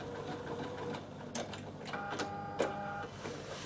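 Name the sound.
overlock sewing machine stitching nylon ribbon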